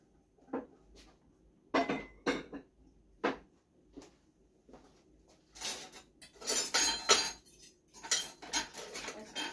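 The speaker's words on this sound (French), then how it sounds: "il faut que je finisse ma petite vaisselle là" Dishes being washed by hand: scattered clinks of cutlery and plates knocking together, with bursts of running water rinsing in between, close by.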